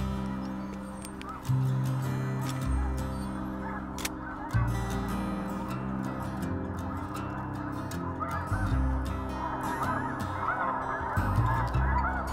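A large flock of snow geese honks continuously overhead during a hunt in Manitoba, a dense, overlapping chorus of calls with a few louder bursts as birds pass closer.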